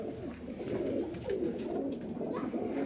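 Pigeons coo steadily in low, rolling murmurs, several birds close by with overlapping calls and no talking.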